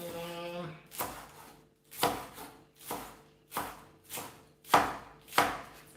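Green onion (scallion) being chopped on a board for a Jamaican breakfast, seven or eight crisp knife strikes at a steady, unhurried pace, close and clear, with a brief hum before the first cut.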